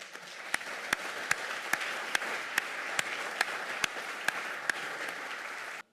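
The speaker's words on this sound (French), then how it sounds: "J'aimerais que nous l'applaudissions bien fort." An audience at a medical faculty prize-giving ceremony applauds steadily and evenly for six seconds, with a few sharper, louder claps standing out at regular intervals above the crowd before it cuts off.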